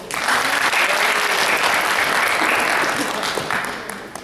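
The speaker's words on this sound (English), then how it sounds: "thank you, round of applause." A seminar audience in Dubai claps in a loud, even burst of applause lasting about four seconds before it tapers off.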